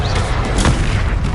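A Confringo spell blast in Hogwarts Legacy, a short loud booming burst with a thumping low end and a brief swell, up close.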